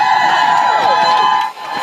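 Thousands of nurses rallying outside Parliament House in Perth: a loud, dense crowd of cheering and shouting voices with chanting tones, sustained throughout and briefly dipping near the end.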